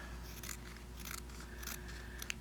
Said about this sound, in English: These poor little scissors need to see the sharpener.